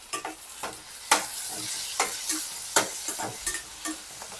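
Tomato roasting in a pan for a matar paneer masala, a soft background sizzle broken by repeated sharp scraping and tapping from a spatula at an uneven rhythm, close and without speech.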